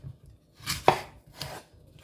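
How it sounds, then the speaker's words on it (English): Rosemary and apple being chopped for tea with a knife: a few crisp, close chops in quick succession, with quiet pauses between them. "So what I'm gonna do, go ahead and chop this up"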